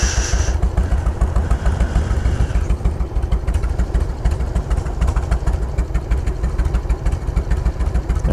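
A chopper motorcycle engine runs close and loud with a steady, lumpy pulsing throb and mechanical clatter on Dauphin Street during a cruise.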